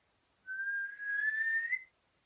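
A single person whistles one steady note that glides slightly upward, with a short break in the middle. The sound is close and clear against near silence and lasts about a second and a half.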